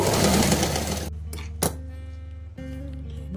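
A sewing machine stitches a blouse sleeve in a fast, loud mechanical rattle for about a second, then stops; a sharp click and a low electric hum follow.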